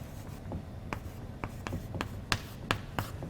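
Marker or chalk writing out a physics equation on a board, with soft scratchy strokes and sharp taps in an irregular rhythm, close and faint, with no speech.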